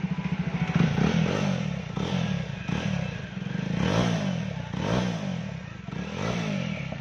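A Jawa Classic motorcycle with an aftermarket silencer exhaust revs near by, a throaty pulsing idle that swells in repeated blips of throttle, with a faint metallic rattle and no talk over it.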